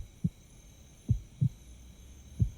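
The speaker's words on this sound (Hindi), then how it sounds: "तुम्हें सुनाई दे रही है क्या मेरे दिल की धड़कन?" Four low, soft heartbeat thumps in an uneven rhythm, used as a film sound effect over a faint steady hum, with no speech.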